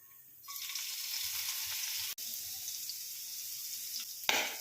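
A sudden loud sizzle erupts as onions and green chillies hit hot coconut oil, then a steady crackling hiss continues, broken briefly by a click and a burst near the end.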